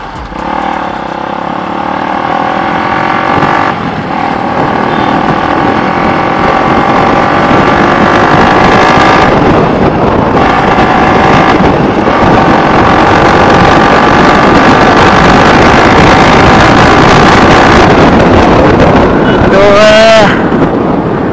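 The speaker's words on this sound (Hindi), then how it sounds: "तो ये सुन लिया अपने SC प्रोजेक्ट की साउंड।" A Bajaj Pulsar RS200 fitted with an SC Project copy exhaust roars loudly while riding, a sustained droning engine note with gear shifts and rising revs, heavy wind rumble throughout and no talk.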